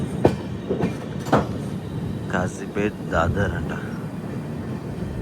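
A Telangana Express train with LHB coaches runs along the rails, a steady rumbling rattle with a few sharp clanks, while someone talks over it.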